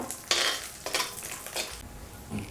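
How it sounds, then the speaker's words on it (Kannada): Cashews frying in hot ghee in a pan for moong dal kheer, making a close, moderate sizzle with scraping stirs and a few utensil clinks across a couple of seconds. "ತುಪ್ಪ ಬಿಸಿ ಆದಮೇಲೆ ಇವಾಗ ಬೌಲಷ್ಟು ಗೋಡಂಬಿ ಹಾಕೋತಾ ಇದ್ದೀನಿ ಗೋಲ್ಡನ್ ಬ್ರೌನ್ ಬರೋ ಫ್ರೈ ಮಾಡ್ಕೊಬೇಕು"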